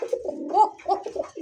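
A pigeon coos close by in soft, throaty, rolling phrases that repeat several times in a short run.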